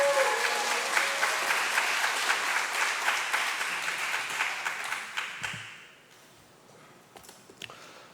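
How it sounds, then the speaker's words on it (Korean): A church congregation at a festival worship service applauds warmly for about five seconds to welcome the pastor, then the clapping dies away into near silence with a few faint taps. "우리 크게 박수로 환영하겠습니다"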